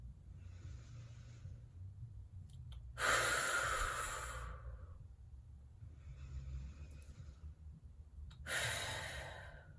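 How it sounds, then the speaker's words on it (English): Deep breathing exercise: a long inhale, then a sharp, forceful exhale through the nose, repeated twice, close to the mic and alone over a faint low background hum. "you're gonna quickly let out a powerful exhale from your diaphragm"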